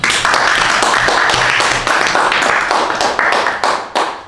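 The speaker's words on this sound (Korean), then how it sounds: "박수 한번 주시죠" A lecture audience at a talk on change and innovation claps loudly and densely for several seconds, the applause near and full, tapering with a few trailing claps at the end.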